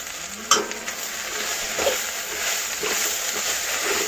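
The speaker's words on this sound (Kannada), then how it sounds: "ಒಂದು 8-10 ಎಸಳು ಬೆಳ್ಳುಳ್ಳಿ, ಒಂದು 4 ಕಾಯಿ ಮೆಣಸು ಅದನ್ನು ಸಹ ಹಾಕ್ಕೊಂಡು ಅದನ್ನು ಸಹ ಸ್ವಲ್ಪ ಹೊತ್ತು ಫ್ರೈ ಮಾಡ್ಕೊಳ್ಳಿ" Garlic cloves and green chillies frying in a pan, a continuous close sizzle with a sharp utensil clink near the start and scattered stirring scrapes.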